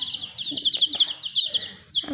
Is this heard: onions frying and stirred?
no